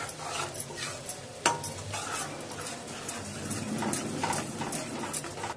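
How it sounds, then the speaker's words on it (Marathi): Ground masala paste fries in oil for a soybean gravy, a soft sizzle under scraping and clinking of a spoon against the pan as the paste is stirred, near and fairly quiet. "आपला छान असा मसाला तेलावरती परतून घेऊया"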